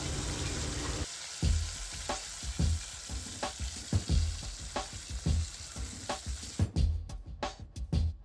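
Ground masala paste with cumin frying in oil for Kashmiri rajma, a close steady sizzle broken by repeated thuds and scrapes of stirring, ending in sharper clinks.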